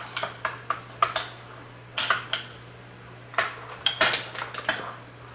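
Unicorn ranch dip is mixed in a bowl with a spoon, giving close, irregular clinks and taps against the dish, with short scraping strokes between pauses.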